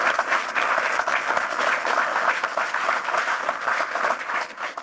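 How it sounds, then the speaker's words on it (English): An audience at a fireside chat for a leaders track gives a massive round of applause: a continuous, even roar of many hands clapping at steady moderate loudness for the full five seconds, with no voices over it. "Massive round of applause, please."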